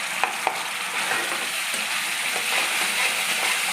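Tomato sauce and spices fry in a pan with sugar and fried dried chillies while being stirred, giving a steady close sizzle with a few sharp scraping clicks near the start.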